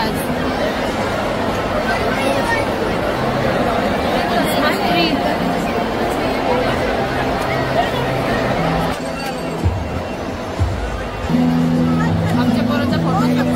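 Busy crowd chatter at a Christmas party inside a Kalyan mall, a continuous loud babble of many voices with some nearby talk and a brief lull before the hubbub resumes.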